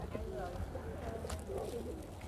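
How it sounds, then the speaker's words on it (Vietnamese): Pigeons coo softly near people gathered for a meal at a Vietnamese Buddhist meditation monastery, the low calls half buried under steady nearby conversation. "Mấy bồ câu xuống nghe pháp đó quý vị ơi."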